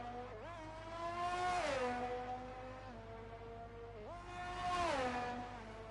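A Formula 1 race car engine at a racing circuit: two high-pitched engine whines rise and fall as they pass, with steady revving tones over a low, constant background hum.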